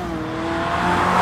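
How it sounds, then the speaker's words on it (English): A Ferrari 458 drives past with a close, rising engine note that swells louder over about a second, without talk. "And now we've got a 458 coming past."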